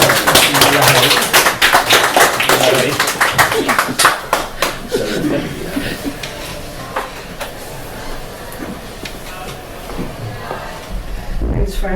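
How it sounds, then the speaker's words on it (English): Small audience at a poetry reading gives warm applause, close sharp individual claps in a lively burst that gradually thins into scattered claps, with some chuckling. "Let's give her a warm round of applause."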